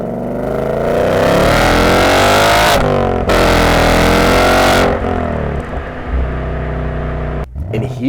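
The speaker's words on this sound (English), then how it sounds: "And now, this is me accelerating with 24-bit." A vehicle's engine revs hard through repeated gear-by-gear acceleration, loud and close with a clipped, peaking sound, with brief drops between shifts before easing off near the end.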